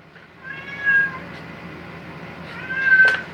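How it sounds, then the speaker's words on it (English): A house cat meows twice, insistent and fairly close, wanting to be let outside, with a quiet room in the background and no talking. "I'm going to go crazy with this cat. She wants out all the time now, Pat."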